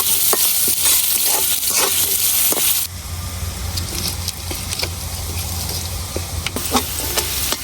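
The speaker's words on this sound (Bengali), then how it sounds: "আলুটা আমি তেলের সাথে একটু ভালো করে ভাজে নিচ্ছি।" Thinly cut potatoes frying with onions in oil, a loud close sizzle and hiss with spitting pops and stirring clinks, easing slightly after the first few seconds but staying continuous.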